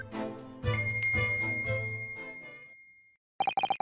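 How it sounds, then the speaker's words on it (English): A pulled bell cord in The Great Ace Attorney rings a bright ding with a shimmering ringing tail that fades out over a few seconds, then a quick run of softer chimes follows after a short pause. "Yes, it's a bell cord."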